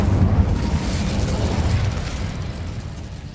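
Incendio fire spell cast in Hogwarts Legacy, a loud rumbling fiery burst with heavy low-end roar sustained for a few seconds and slowly tapering, no talk.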